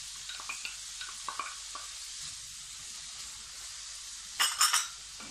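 White button mushrooms sizzle softly in a hot pan with a steady hiss, broken by a few light stirs and clinks and a louder scraping stir near the end.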